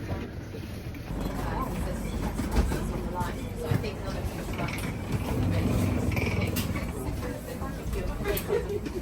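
A train in India rumbles along the rails, heard from on board as a steady mechanical roll with faint clanks, while people talk over it.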